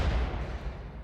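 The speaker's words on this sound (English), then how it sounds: "The explosion was the other side" A low, rumbling explosion from the Rimworld Anomaly video game, heard alone: a deep boom that rolls and slowly fades over about a second, moderately loud with no talk.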